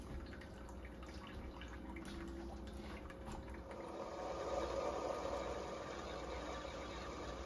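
A Keurig K-Slim coffee maker running a descale cycle, water trickling and dripping with a low pump hum, faint and steady, growing slightly fuller in the second half as the reservoir runs low.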